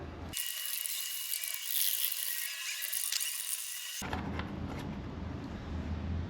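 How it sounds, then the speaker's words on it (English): A power tool whirs continuously as it removes bolts from the rear shock of a Can-Am Spyder F3, a loud steady mechanical drone that cuts off abruptly, leaving a quieter rattling workshop noise. "Removal of the bolts continues, and we need to remove 1, 2, 3 bolts right now"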